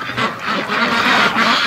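Free-range ducks quack loudly and close by in a quick run of overlapping calls, with no talking over them.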